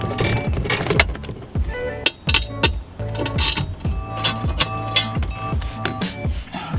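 Rapid ratcheting clicks from a hand ratchet loosen size 10 bolts on a Scion FR-S during a tail light install, loud and close, in quick repeated bursts with brief pauses.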